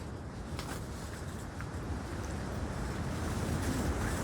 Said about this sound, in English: This is going to be a good little bit of wind here.